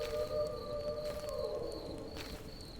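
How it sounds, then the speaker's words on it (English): Distant wolves howl in The Last Plague: Blight, heard as faint, steady, drawn-out tones held over a quiet, low ambient bed. "You can hear the wolves off in the background."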